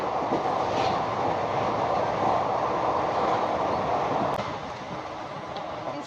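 Local train near Kharagpur running fast on rails, a steady broadband rumble with faint rhythmic clatter that stays loud and close throughout, easing slightly toward the end.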